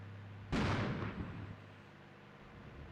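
A long-range tank gun fires in the wargame Armored Brigade 2, a single sharp boom that rolls off into a decaying rumble over steady low background hum.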